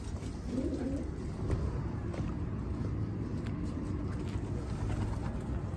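Pet birds, including a cooing dove or pigeon, call softly indoors over a low steady background hum, with a few faint coos.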